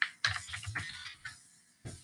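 Keys clattering on a computer keyboard while entering figures into the Desmos calculator, in several short quick bursts of close clicks with brief pauses between.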